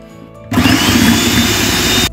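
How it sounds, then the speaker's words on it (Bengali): Chocolate cupcake batter with milk whirring in an electric blender, starting abruptly after a quiet moment and running loud and steady for about a second and a half before cutting off. "এখানে দিয়ে আমি আবারও একটু ব্লেন্ড করে নিচ্ছি"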